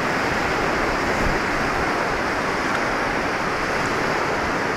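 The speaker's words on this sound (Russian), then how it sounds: "Здесь река Багиратхи, чьи воды светлые, соединяется с водами реки Алакананда." Rushing river water at Devprayag, the holy confluence where the light Bhagirathi meets the darker Alaknanda, a steady broadband roar close by with no voices.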